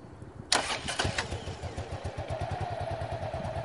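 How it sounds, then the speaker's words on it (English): A motorcycle engine cranks and fires with a sudden loud burst, then settles into a close, steady, throbbing idle on an outdoor riding course. "So he'll start the motorcycle,"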